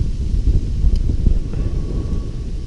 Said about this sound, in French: il y a du vent là, ça saoule